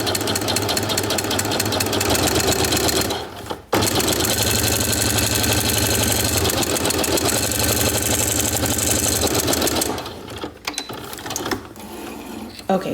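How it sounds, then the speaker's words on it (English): A sewing machine with a twin needle running a line of top stitching on knit fabric, a steady close mechanical whir with a short pause partway through, then it slows and stops near the end. "let me go ahead and sew a line of top stitching with the double needle."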